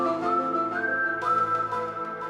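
A whistle plays a sustained, wavering melody with steady tones, fairly loud and close, with no talking.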